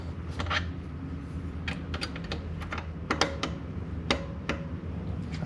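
A bike drivetrain being adjusted, with sharp close clicks tightening the chain tension, scattered irregularly in singles and quick pairs over a faint background and no talking.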